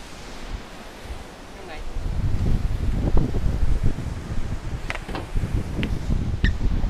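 Wind blows outdoors on the coast at Khanom-Sichon, Nakhon Si Thammarat, a broad gusting rush that swells after the first couple of seconds and buffets the microphone, with faint surf-like noise underneath.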